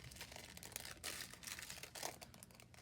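A one-dollar plastic craft supply bag is cut open and crinkled up close, giving a steady crackly rustle with bursts of sharper crinkling.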